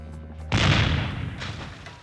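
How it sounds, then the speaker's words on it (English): A loud cannon-like boom from the video game The Curse of Monkey Island bursts in after a short quiet stretch, then a long rumbling decay trails off over the next second and a half. "Alright, maybe we have to fire the cannon."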